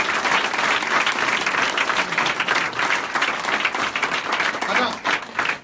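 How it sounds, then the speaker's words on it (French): A church congregation applauding to acclaim the Lord, sustained dense clapping from a large crowd that stays loud throughout, with voices mixed into the applause. "On acclame le Seigneur."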